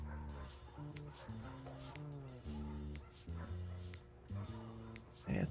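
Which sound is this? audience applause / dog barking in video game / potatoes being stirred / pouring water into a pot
dog barking in video game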